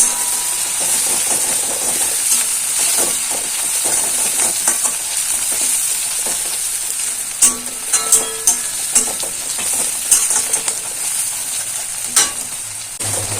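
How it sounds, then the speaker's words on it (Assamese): Dried hidol fish frying with onions over a low gas flame gives a steady close hiss and sizzle, broken by a series of sharp clanks and scrapes from a stirring utensil later on, with no voices. "গেছৰ ফ্লেম লো কৰি ভাজি লম"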